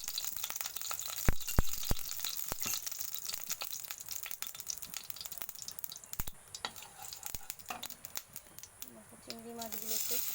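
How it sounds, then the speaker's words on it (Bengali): Prawns fry in a hot wok with a steady, crackling sizzle and sharp spitting pops throughout, and a voice is faintly present in the background. "তো আমি চিংড়ি মাছগুলোকে একটু ভেজে নেব।"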